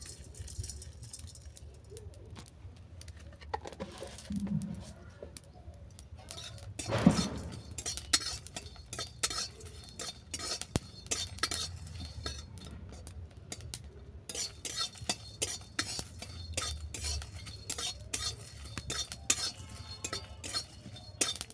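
Panch phoron spices dry roast in a pan, stirred with a metal utensil that scrapes and clinks against it again and again, quiet and close, with a brief louder knock partway through.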